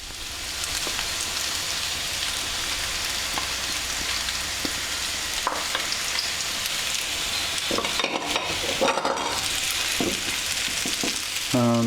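Bacon frying with potatoes in a pan for German Bratkartoffeln, a loud, continuous close sizzle like steady rain, with a few clattering stirs near the end.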